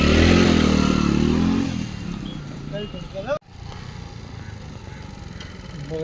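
A motorcycle engine revs and idles nearby at the start, then drops to a lower rumble beneath people talking, with a brief clatter midway.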